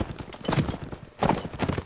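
Horses gallop in Mount and Blade Warband, their hoof clatter coming in two dense rhythmic bursts of clip-clop with a softer stretch between, fairly close and with no talk over it.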